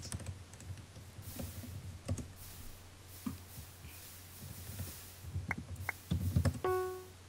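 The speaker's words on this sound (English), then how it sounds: "you see Bennett typing moose" Keys clattering on a computer keyboard during a Minecraft drawing game, with scattered clicks and short bursts of keystrokes building into a quicker, louder flurry toward the end.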